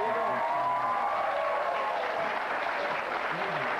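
Crowd at a Saskatchewan Riders football game cheering and clapping steadily, a dense roar of applause with voices mixed in throughout.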